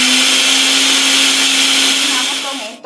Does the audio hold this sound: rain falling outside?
no